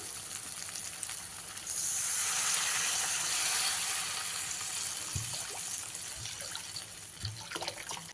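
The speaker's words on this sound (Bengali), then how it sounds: "এই পর্যায়ে আপনাদের এখানে দিয়ে দিতে হবে পরিমাণ মতন জল" Water is poured into a masala fish curry made with rohu, hissing and splashing into the hot pan in a steady close stream, with a few soft knocks of utensils near the end.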